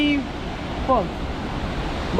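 Rushing water of Sathodi Falls near Yellapur roars steadily in a broad, constant wash, with a voice speaking briefly over it.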